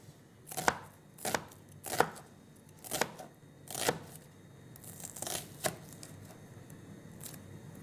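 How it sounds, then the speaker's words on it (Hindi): An onion is sliced with a knife on a board, about eight sharp chopping strokes spaced irregularly, each a crisp close thud with a brief crunch, no talking over them. "और इस प्याज को मैं करूँगी स्लाइस।"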